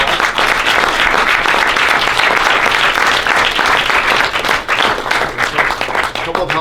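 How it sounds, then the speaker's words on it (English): An audience at the Middlebury New Filmmakers Festival 2019 gives its filmmakers a sustained round of applause, with dense clapping filling the hall steadily from start to finish. "Would you please give all of our filmmakers another round of applause?"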